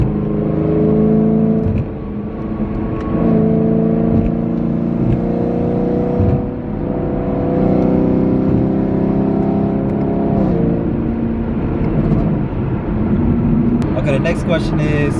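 A Chevrolet Camaro SS engine droning steadily from inside the cabin while driving, with a low, continuous hum and slight rises in pitch as it accelerates, heard throughout.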